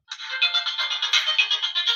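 Music plays through the speakers of a low-cost homemade Bluetooth amplifier, a steady, continuous bright and somewhat tinny tune with a pulsing rhythm, heard alone at moderate loudness.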